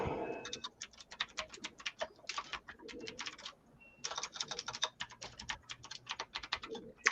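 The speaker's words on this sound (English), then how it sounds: "I am typing." Rapid keyboard typing in two bursts with a short pause between, close and crisp, with faint bird cooing in the background.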